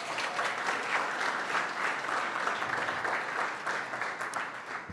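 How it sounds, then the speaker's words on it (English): An audience at a startup demo day applauds, a sustained burst of many hands clapping filling the room at even volume. "you can give her a round of applause."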